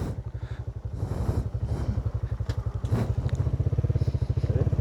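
A motorcycle engine runs at a race, its steady rapid low putter close and continuous throughout, with light clatter and faint crowd noise behind it.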